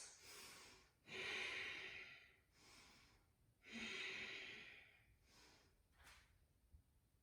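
Deep Ujjayi yoga breaths during a flow class, close and soft, with three long hissing inhale-exhale cycles separated by short pauses and a shorter final breath.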